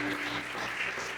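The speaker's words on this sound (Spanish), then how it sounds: "denle fuerte ese aplauso a Dios" A church congregation claps continuously, a short dense burst of applause at moderate volume with a faint tonal hum underneath.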